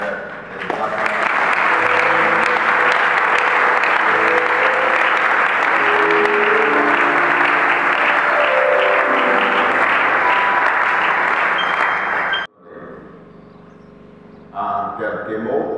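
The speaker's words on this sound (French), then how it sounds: "pouvez-vous accepter de l'honorer avec les acclamations?" A church gathering cheers and applauds to honor the bishop, a loud, continuous roar of clapping and acclamation with a musical drone underneath, cutting off abruptly near the end before a brief burst of sound returns.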